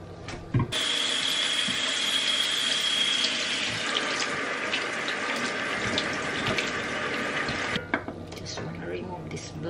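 Kitchen tap running while shrimp are rinsed under it, a steady close hiss of flowing water with faint splashing and a few small knocks, continuing for most of the stretch before easing off.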